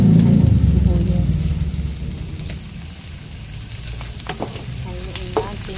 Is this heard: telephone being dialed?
no